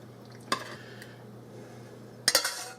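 Sauce being spread around a pan with a utensil for a twisted spaghetti and meatballs bake, two short clinking scrapes against the pan with quiet stirring between, close and fairly soft.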